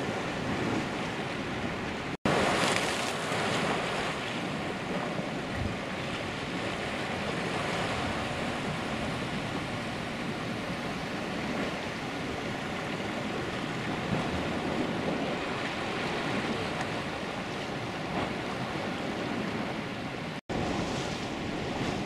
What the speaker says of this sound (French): il y a des vagues qui sont particulièrement traîtres